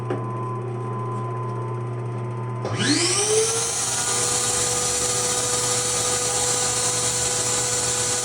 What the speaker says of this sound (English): Now I'll start the dust extraction